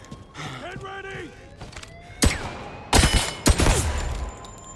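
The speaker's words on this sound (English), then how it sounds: "Where are they shooting me from?" Gunfire in the First Light video game arrives as a few sharp, loud shots and a short burst, scattered over faint background noise and talk.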